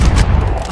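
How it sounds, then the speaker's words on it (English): Grenade blast in the Call of Duty: Advanced Warfare video game, a loud, close, low-heavy boom with a rumbling tail that fills the whole short moment, no voices. "that was a good grenade throw"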